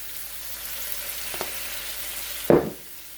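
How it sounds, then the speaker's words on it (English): String beans sautéing with bacon, oyster sauce, sesame oil and soy sauce in a pan: a steady, soft sizzle, with a brief louder hiss and clatter near the end before it quiets. "Just saute it."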